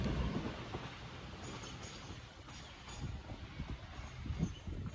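Class 156 unit 156414 pulls out of Preston station bound for Ormskirk, a faint steady diesel rumble with soft rail clatter and wind noise in the distance.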